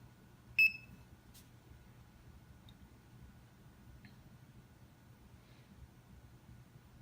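A single short, clear electronic beep from an Acaia Pearl Black coffee scale as its button is pressed to start the timer, followed by quiet room hum with faint ticks.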